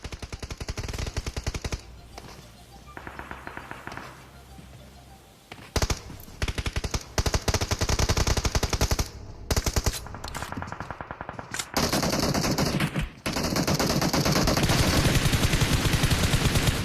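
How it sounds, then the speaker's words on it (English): Gunfire from a competitive team shooter video game during pro scrims, including bolt-action rifle shots: dense, repeated bursts of automatic fire with brief gaps, loud and continuous across the scene. "getting some shots through the bars"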